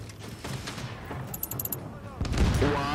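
Rapid gunfire and impacts in the video game The Division during an intense firefight, dense bursts mixed with game effects and a voice speaking over the action.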